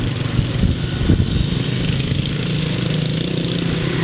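Several dirt bikes, among them an original Yamaha PW50, ride together on a cold winter day, their engines droning steadily and fairly close, with no talk over them.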